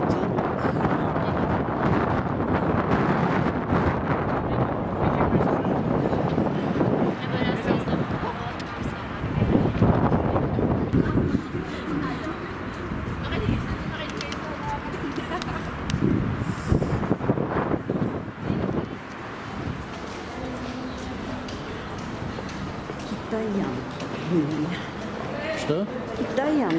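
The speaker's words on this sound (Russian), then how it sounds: "Ну, когда ветер поднялся. Да, ветер, холодный ветер." Cold wind blows steadily and loudly across the microphone outdoors on a road leading to a church in Yerevan, with people talking over the constant rushing buffeting throughout.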